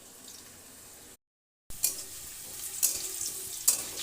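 Potatoes frying in mustard oil hiss and sizzle steadily in a pan, broken by a brief silent gap before the crackling resumes with a few sharper spits.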